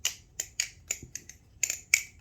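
An aluminium BRS Barebones clone balisong knife being flipped produces a quick run of sharp, close metallic clacks and clunks, roughly eight in an irregular rhythm, with no talk.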